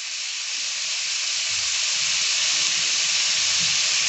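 Steady, loud sizzle of frying for a paneer gravy, a dense continuous hiss that holds evenly from start to finish with no voices over it.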